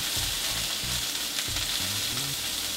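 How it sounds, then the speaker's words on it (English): Sliced onions fry in a hot pan with a continuous, even hiss of sizzling oil, up close, alongside a low intermittent hum and no talking. "I also got some sliced onions, I'm gonna add that in. And I'm gonna cook it around for a little bit."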